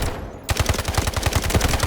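An assault rifle fires a rapid, evenly spaced automatic burst of loud, close shots on a 50-meter range in the video game Delta Force.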